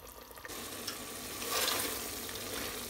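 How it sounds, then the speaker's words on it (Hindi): Mutton sizzles as it is fried in a pressure cooker while its water evaporates, a soft, steady hiss and crackle that swells slightly midway, faint and with no talk. "अब इसका फ्लेम ऑन करके हम मटन को भून लेंगे। इसमें थोड़ा वाटर है तो इसका वाटर हम इवेपोरेट कर लेंगे।"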